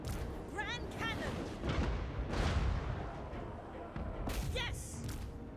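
Grand cannon firing in the Total War Warhammer 3 battle game, heavy booming blasts and thuds rolling over a busy layered battle soundscape with voices shouting throughout.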